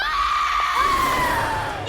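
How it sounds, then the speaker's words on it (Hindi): A prolonged high scream in a horror series, a single sustained wavering cry lasting about two seconds that holds loud and steady before rising sharply at the very end, with no talk over it. "ये किसकी चीख है?"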